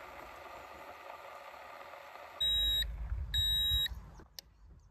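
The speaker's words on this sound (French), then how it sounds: "vous avez entendu le petit bip de la cafetière, et quand ça bip, ça veut dire que c'est prêt" A coffee maker in a camper van signals that the coffee is ready with two short, sharp electronic beeps separated by a brief pause, over low rumbling background noise.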